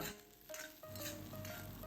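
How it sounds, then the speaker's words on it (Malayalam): Green chilies sautéing in a pan while being stirred, soft sizzling with light scraping of the spoon and small clinks, fairly faint and close. "ഈ പച്ചമുളക് ഒന്ന് വാട്ടിയെടുക്കുക ഇതെല്ലാതും നല്ലോണം ഒന്ന് വാടി കിട്ടണം കേട്ടോ അതുവരെ നമുക്ക് ഇളക്കിക്കൊണ്ടിരിക്കണം"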